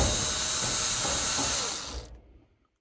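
A tool spins out the 1/4-inch sheet metal screws holding the back shield of an electric dryer, giving a steady, close whirring grind for about two seconds before stopping abruptly.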